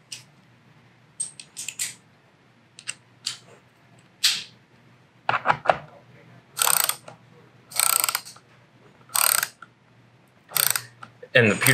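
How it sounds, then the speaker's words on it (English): Ko-ken hand ratchet being turned, giving short bursts of crisp rapid clicking from the pawl, repeated in separated strokes over quiet background, close and distinct. "the beauty of these ratchets, like I mentioned earlier, is that it's so easy to turn"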